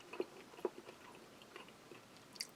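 Soft, close chewing of Russian Shturm ration beef with barley, a few faint moist bites and crunches in an otherwise quiet space.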